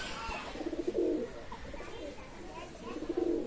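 Pakistani teddy pigeons, a running pair, give soft, throaty cooing phrases in two close bursts with quieter murmuring between them.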